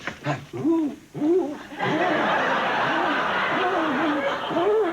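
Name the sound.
man imitating a pigeon mating call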